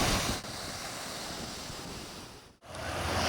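Ocean surf rolls in steadily at Robert Moses beach, a loud, continuous wash of breaking waves with some wind buffeting the microphone and a brief dip near the end.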